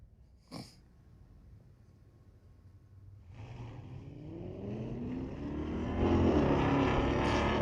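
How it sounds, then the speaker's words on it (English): A 1964 Pontiac GTO at a drag strip. A brief thump comes first, then the engine rises from a low idle into a building, revving roar that grows steadily louder and closer. "A 1964 GTO, tower side of the racetrack."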